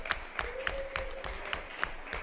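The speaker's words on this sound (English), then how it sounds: "let's clap it up for our community members." A small group at a Brooklyn community board meeting claps for community members, with sharp, fairly quiet hand claps in a loose, even rhythm of about two per second.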